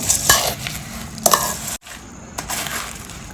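Bhel, a puffed rice snack, mixed by hand in a bowl, with close continuous rustling and crunchy stirring, a few sharper crackles, and a brief pause partway through, no talk.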